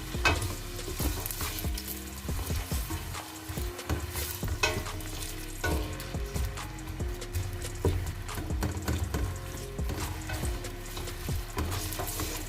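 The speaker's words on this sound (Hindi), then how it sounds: "प्याज को हमने ऐड कर दिया है और साथ ही हम इसको अच्छे से मिक्स कर लेते हैं।" Onions are fried and stirred in hot oil for kadhi pakora, producing a loud, continuous, close-up sizzle with constant scraping and clattering from the spoon against the pan.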